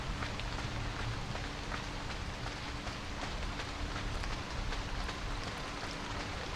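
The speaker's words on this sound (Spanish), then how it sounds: "Lluvia, lluvia, lluvia, más lluvia en este juego." Steady rain falling in the horror video game Fobia: St. Dinfna Hotel, a dense continuous hiss of drops with scattered sharper patters, even and unbroken throughout.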